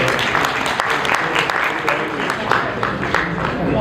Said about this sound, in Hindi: उनके लिए आप तो तालियां बजाए तो करते हैं।